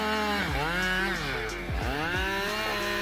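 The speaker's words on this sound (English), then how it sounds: "this chainsaw is a symphony of raw power and precision" A chainsaw cutting through a huge tree trunk, its engine loud and close, bogging down and revving back up several times as the chain bites into the wood.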